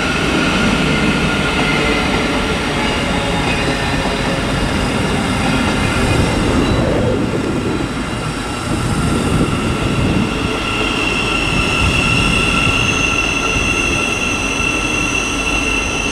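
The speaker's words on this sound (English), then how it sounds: "So if they're on pantograph, so on the overhead wires, then they'll sound like that." Thameslink Class 700 electric train on overhead wires passing at Stevenage on the East Coast Main Line, a loud steady rumble with wheel and rail noise and a high whine throughout, briefly dipping midway, no voices.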